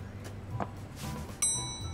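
A single bright bell ding rings out about two-thirds of the way through, with its high tones lingering against a low background bed in the Leisure Suit Larry: Wet Dreams Dry Twice video game.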